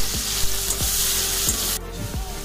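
Chopped onions with salt fry in a pan for katla fish kalia, a loud, steady close-up sizzle with repeated scraping strokes of stirring and no voices.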